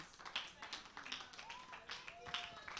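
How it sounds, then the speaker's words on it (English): Audience applause at a church Vacation Bible School event: faint, scattered clapping and taps, heard quietly under people talking. "Another round of applause."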